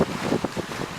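Waves wash in and roll pebbles against each other on Gugyedeung pebble beach in Wando, a close, continuous rush broken by repeated gritty surges, with wind buffeting the microphone.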